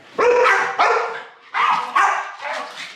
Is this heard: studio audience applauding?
no